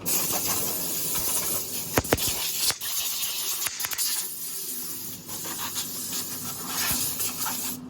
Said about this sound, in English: Blow down the cutters, scrapers, get rid of any of the bits and pieces.